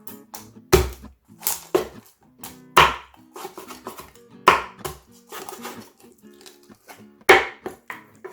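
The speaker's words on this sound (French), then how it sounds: "Il faut que je découpe la carcasse pour la soupe." A chicken carcass is chopped in half for Thai kuay tiaw kay soup, giving several sharp, loud knife-on-board strikes in an irregular rhythm, close by, with clatter between blows and no talk.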